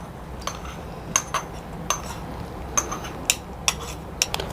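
Cashews and raisins fried in ghee are stirred into a milk powder ladoo mixture, giving a series of sharp, scattered metallic clinks and scrapes of a spoon against a pan, close and fairly quiet with no talking.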